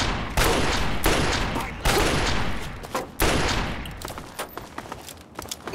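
Loud sustained volleys of gunfire in Fallout 3, several long rattling bursts close up with brief gaps, then trailing off into scattered shots.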